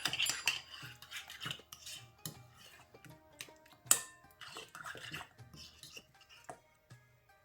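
Greek-style yogurt and garlic ginger paste being stirred in a bowl, a spoon scraping and clinking against the sides in quick, uneven strokes, close and fairly quiet.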